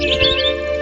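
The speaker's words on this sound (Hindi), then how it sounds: "दूर से आती है चिड़िया की आवाज।" Cartoon bird chirps in a tranquil garden scene, a few bright tweets over a soft sustained musical background, brief and moderately loud.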